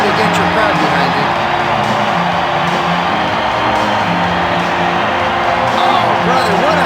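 The arena crowd at an NHL 2K3 hockey game between the New York Rangers and Boston Bruins roars with a steady, loud cheer throughout, and a commentator's voice sits faintly within it.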